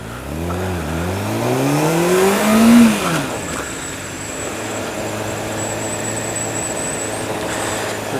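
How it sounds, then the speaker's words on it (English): Honda CBR600F motorcycle pulling hard from a standstill, engine revs rising quickly through gears with a loud climbing whine, then settling into a steady high-pitched drone on the road. "In terms of accelerating at the line, it just does 30 mile an hour instantly."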